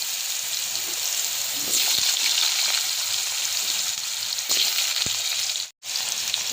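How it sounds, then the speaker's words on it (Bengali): Potatoes fry in leftover fish oil from hilsa with a loud, close, steady sizzle and hiss, a few soft stirring clicks, and a brief dropout near the end. "আলুগুলো ভেজে নেব।"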